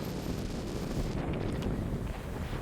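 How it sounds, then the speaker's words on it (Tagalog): Strong wind at a beach in Abu Dhabi buffets the microphone in a continuous, heavy roar with low rumbling gusts and no voices. "Grabe yung hangin, sobrang lakas talaga."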